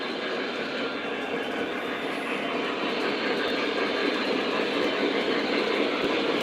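A steady, loud rumbling whir of Lionel model trains with Pennsylvania engines running continuously, with faint rhythmic clicking and no pauses.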